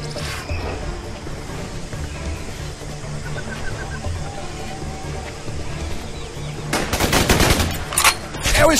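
Gunfire from the jungle combat video game Raven Squad crackles in dense, rapid bursts of automatic fire that build near the end, over a steady game background.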